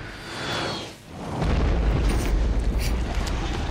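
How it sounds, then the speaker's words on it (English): Missile fired in the Parasite Eve video game: a rising whoosh, a brief dip, then a heavy, sustained explosive roar that rumbles loudly and steadily to the end. "Fire the missile!"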